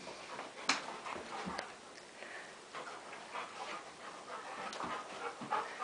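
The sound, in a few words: puppies panting and playing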